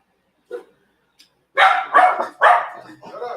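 A dog barks close by, several loud barks in quick succession after a faint yip, with no talking.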